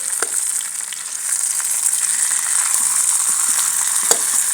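Stuffed bitter gourds (bharva karela) fry in a pan with a steady, bright, close sizzle and occasional soft pops and crackles, with no voices.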